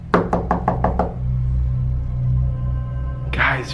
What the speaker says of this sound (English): the door knocked again